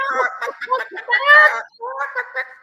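A person imitating a chicken with a run of loud, squawking clucks in uneven bursts, close up with a brief pause before a final cackling stretch.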